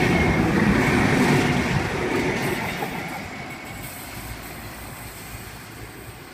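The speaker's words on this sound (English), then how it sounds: "We have an Explorer passing Sydney Terminal Service." An Explorer passenger train passes a station platform on the Sydney Terminal line, its loud rumble and wheel clatter close at first and easing gradually as it rolls away.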